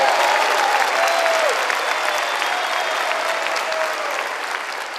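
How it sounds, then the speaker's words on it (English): Sustained audience applause at a sergeants major course graduation ceremony, dense steady clapping from a large crowd in an indoor hall, holding evenly throughout and tapering slightly at the end. "Let's give him a round of applause."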